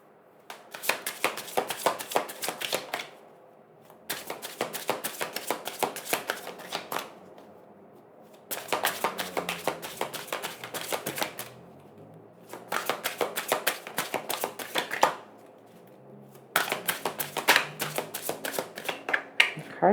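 A deck of tarot cards being shuffled by hand in five long riffling bursts, each lasting a few seconds and separated by short pauses, crisp and close with no talking.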